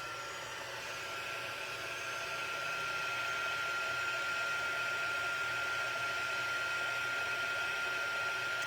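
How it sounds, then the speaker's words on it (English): A handheld heat tool blows hot air in a steady, close whooshing stream, holding an even broadband hiss with a faint high whine, and swells a little louder after the first few seconds. "Grab my heat tool, and we're going to start quickly"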